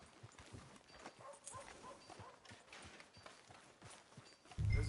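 Horse hooves clip-clop at a steady walking rhythm in the video game Red Dead Redemption 2, moderately close and fairly quiet against faint background noise, followed by a low rumble at the end.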